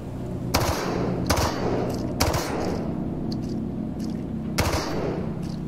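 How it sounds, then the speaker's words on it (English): Enemy gunfire in Into the Radius, with several sharp shots in irregular bursts at mid distance, each leaving a short rumbling echo over a steady low ambient drone. "Are they just shooting?"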